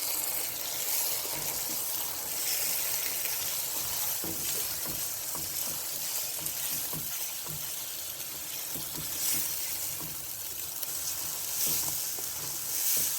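Tomatoes hit a sizzling masala for gosht karahi, a steady hiss of frying filling the whole stretch with soft stirring clicks and scrapes, no voice over it.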